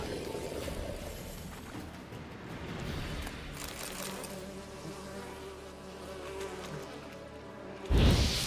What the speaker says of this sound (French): Il y a des packs de mouches.